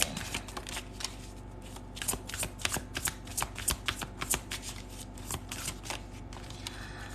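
Tarot cards are shuffled close by in a quiet room, with repeated crisp riffling bursts and soft flicks in an uneven rhythm, and no talking.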